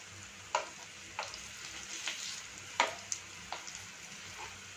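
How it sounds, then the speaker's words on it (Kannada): A broccoli cutlet fries in a pan over a steady soft sizzle, with several sharp crackles and spatters popping up at irregular intervals; no one speaks. "ಒಂದು ಸೈಡ್ ಸ್ವಲ್ಪ ಫ್ರೈ ಆದಮೇಲೆ ಅದನ್ನು ಇನ್ನೊಂದು ಸೈಡ್ ಕೂಡ ತಿರುಗಿಸ್ಕೊಂಡು ಬೇಯಿಸ್ಕೊಳ್ಬೇಕು."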